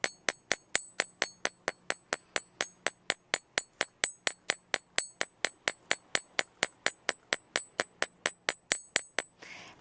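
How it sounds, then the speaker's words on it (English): A hammer strikes jewelry wire on a small anvil in a fast, even series of about forty sharp metallic ringing taps, close and clear, with no voices. "So I'm not just hammering flat, I'm actually hitting and pulling."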